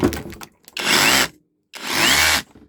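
A battery-powered rotary hammer runs in two loud bursts, each about half a second to a second long, separated by brief silence, with a short earlier spurt and a whirring, grinding drive sound close up.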